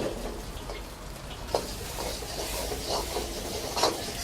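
Egg sizzling in a little oil in a pan for chicken chopper rice, a steady crackling fry with a couple of sharper pops, no talk.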